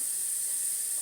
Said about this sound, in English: Steam has now been escaping from the escape valve